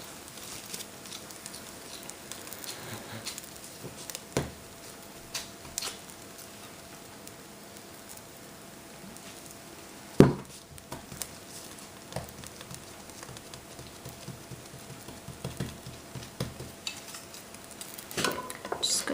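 Day-old rice roti cooking in a hot pan gives a low, steady sizzle with scattered light pops and a sharp clatter of utensils partway through, and no talking.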